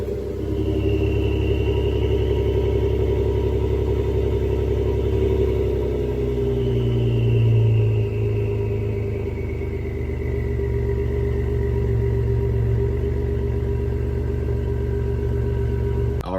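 Ford F150 with a 3.5L EcoBoost V6 and its resonator deleted, idling with a steady deep exhaust rumble that swells briefly in the middle, no talking.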